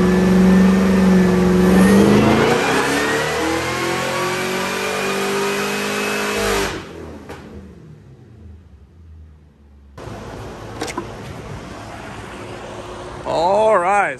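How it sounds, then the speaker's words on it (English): A Cadillac CTS-V V8 engine roars on a dyno, climbing loudly through a long full-throttle rev before cutting off, then idling and revving again near the end; no talk. "So a big pickup with revving it all the way out."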